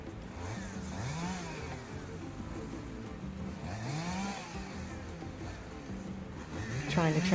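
A chainsaw trims branches from a felled giant tree in the Costa Rica jungle, its engine revving up and down in repeated cuts, fairly distant and faint, with a voice speaking over it.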